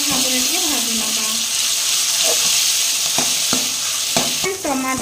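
Tomatoes and vegetables fry in a home kitchen pan with a steady loud sizzle, broken by scraping stir strokes and clinks of the spoon, while a voice speaks faintly in the background.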